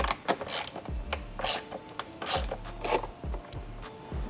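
A ratchet wrench loosening bolts on a Porsche 992 911 during intercooler and intake work, close, quick bursts of rapid clicking repeated several times, with faint rubbing and handling noises between strokes.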